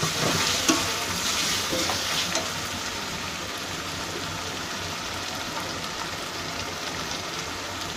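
Ground turmeric, coriander, cumin and garam masala with cinnamon powder frying in a pan for a Bengali chicken and potato curry, a soft continuous sizzle with light stirring scrapes, steady and close, no talking.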